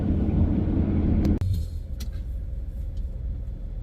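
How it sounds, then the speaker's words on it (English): Road rumble inside a moving Winnebago Revel in heavy traffic: a steady low drone that drops suddenly partway through, then continues as a quieter, even hum. "I'm in heavy traffic"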